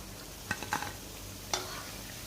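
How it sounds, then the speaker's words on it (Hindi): Pakoras fry in hot oil over a medium flame with a soft steady sizzle, broken by a few short clinks and scrapes as they are lifted out. "मीडियम फ्लेम के ऊपर हमने पकोड़े फ्राई कर लिए हैं"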